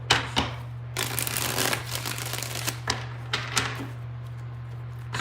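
Tarot cards shuffled in a few close, papery bursts of riffling separated by short taps, over a constant low electrical hum, with no talking.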